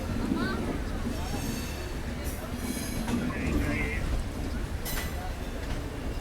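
Inside the 16533 Jodhpur to KSR Bengaluru SF Express as it runs out of Ahmedabad Junction: a steady, loud rumble with rattling wheels and occasional squeals, while a voice talks over it.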